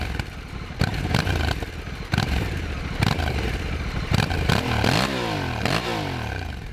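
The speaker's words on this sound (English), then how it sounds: "This bike with this automatic gearbox does crazy things with sound" A Honda Africa Twin 1100 DCT motorcycle with automatic gearbox rumbles loudly up close, with repeated sharp shift blips and rising revs cutting through a constant engine drone.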